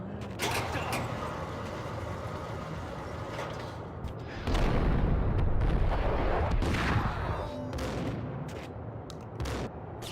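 A pump-action shotgun in the video game Max Payne fires in several heavy blasts amid a chaotic burst of gunfire and debris, with dense loud bangs clustered near the middle and a few sharp shots toward the end.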